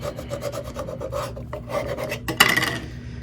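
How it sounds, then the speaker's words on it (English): A hand scraper rasps repeatedly across a surface during bathroom organizing crafts, close and steady, ending in a sharper, louder scrape near the end. "I'm going to take my scraper, I'm going to scrape down"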